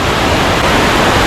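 Waterfall pouring onto a hidden beach at Kakolem in South Goa, a loud, close, continuous roar of falling water with no voices over it.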